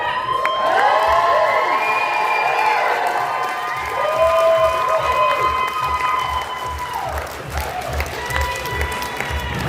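A horror fest crowd claps and cheers loudly and steadily for several seconds, with whoops and shouted voices over the applause and a sustained tonal hum underneath.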